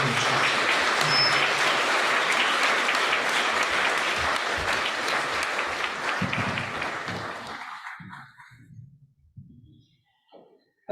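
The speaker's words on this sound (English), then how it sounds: "Round of applause." Audience applause at a community mental health forum in Sonoma County, a dense sustained round of clapping that fills the room, then thins and fades out over the last few seconds into sparse claps.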